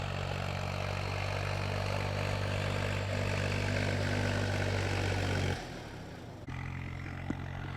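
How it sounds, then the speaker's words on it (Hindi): A tractor ploughing a farm field gives a loud, continuous engine drone that drops briefly about two-thirds through, then comes back. "आज का मशीनी युग है और मशीनों से, ट्रैक्टर से खेत की जुताई का काम चल रहा है।"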